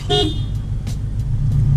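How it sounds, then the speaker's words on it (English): A car horn honks in a short burst near the start, over a steady low rumble of a lowered Scion FR-S engine idling, heard from inside the car. "Oh, now you're honking."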